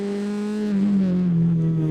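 A small, lightweight 540 kg race car engine roars loudly at high revs, revving to 9,000 RPM, its steady buzzing pitch dipping slightly as the revs ease.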